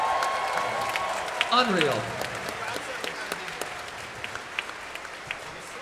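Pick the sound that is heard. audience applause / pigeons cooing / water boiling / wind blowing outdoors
audience applause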